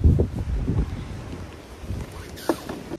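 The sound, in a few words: strong wind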